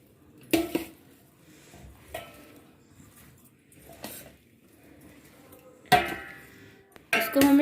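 Instant mixed pickle is stirred with mustard oil in a bowl, heard as scattered metal spoon clinks and scrapes against the dish, a few sharp knocks standing out from a quiet background.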